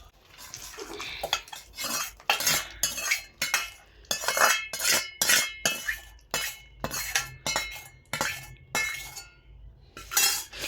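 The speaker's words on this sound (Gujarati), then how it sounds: "હવે આપણે એને સરખી રીતે મિક્સ કરી લઈશું એટલે સ્વાદ આવી જાય ગળ્યો." A utensil works sugar syrup into roasted semolina and ginger in a pan, with repeated clinking, scraping strokes in an irregular rhythm, close and fairly loud, with brief pauses between bursts.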